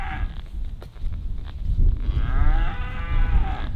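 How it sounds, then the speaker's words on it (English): Several cows moo nearby along a hiking trail in the Texas Hill Country, long drawn-out lowing calls overlapping one another, with outdoor rustle in the background. "we hit the trail and immediately heard some cows mooing nearby."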